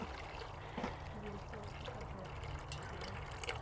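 Water for sourdough bread dough pours in a steady, soft trickle, faint and continuous against a hissy background.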